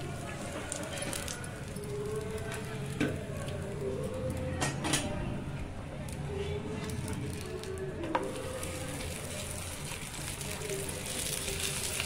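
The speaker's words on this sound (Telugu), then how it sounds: "నేనైతే నెయ్యి వేసి కాల్చుతున్నానండి." Coconut bobbatlu sweets roast in ghee on a hot pan with a steady, close sizzle and occasional light scraping clicks from stirring or flipping.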